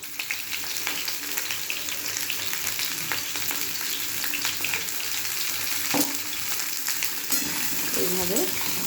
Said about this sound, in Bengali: এইভাবে আমি পটলগুলো লাল হওয়া পর্যন্ত ভেজে নেব।